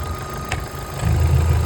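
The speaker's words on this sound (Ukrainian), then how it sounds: "Давайте послухаємо двигун." A 2009 Opel Astra 1.6 petrol engine idles steadily with a low rumble that swells slightly louder toward the end, with no voices present.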